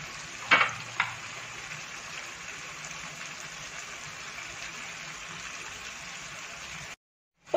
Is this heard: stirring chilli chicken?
yes